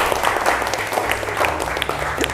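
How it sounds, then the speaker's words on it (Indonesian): Schoolchildren in a classroom clap loudly and energetically for a group, a dense, bright burst of hand claps with scattered sharper slaps, close and continuous throughout. "Beri tepuk tangan kelompok 2"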